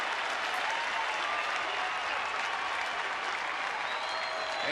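A baseball crowd at Globe Life Park, with the Rangers hosting the Tigers, applauds on its feet in a dense, steady roar of clapping and cheering that fills the stadium without letup, with no speech over it.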